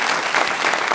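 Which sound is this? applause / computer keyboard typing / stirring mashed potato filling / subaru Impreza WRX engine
applause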